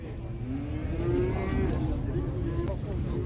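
A single drawn-out moo rises over the steady murmur of a livestock market, with cattle and bulls for sale and background noise throughout.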